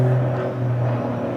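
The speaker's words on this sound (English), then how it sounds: "Sounds like we got an airplane going over." An airplane drones overhead, a faint, steady distant hum with no voices over it.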